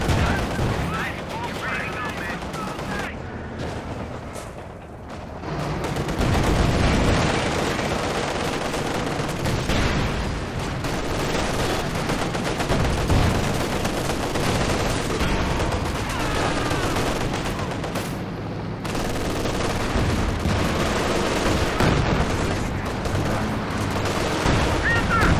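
Continuous heavy gunfire, cannon shots and rocket blasts from a Pershing tank and rockets hitting a T-34 in a Company of Heroes 2 2v2 match, a dense, loud battle with a commentator talking over it.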